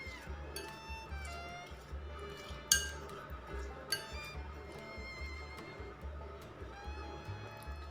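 A spoon clinks repeatedly against a glass or ceramic bowl while cucumber salad with squeezed lemon juice is tossed, light irregular metallic taps close by over a quiet background.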